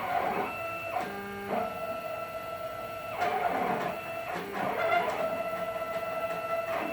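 A CNC Shark Pro machine runs a file with its router switched off, giving whining, buzzing stepper-motor tones that shift pitch in bursts as the gantry moves, steady and moderately quiet, with no talking.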